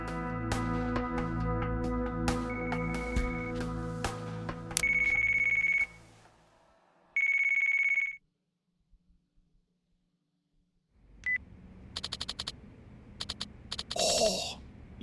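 In Yakuza Kiwami 2, a game phone rings with a steady electronic tone over busy game sound, then falls quiet before louder clattering effects return.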